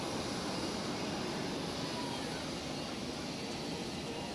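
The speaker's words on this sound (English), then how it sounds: "Shortly to be joined by another Swiss heavy, a 777 off to Chicago." A Swiss Boeing 777 heavy jet departs Zurich Airport with a loud, steady, wide-band engine roar that holds at constant strength throughout.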